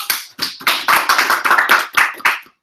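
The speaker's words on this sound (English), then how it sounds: "Let's give Alex a round of applause." An audience gives a presenter a brief round of applause: a short burst of close, crisp hand claps for about two and a half seconds before it cuts to silence.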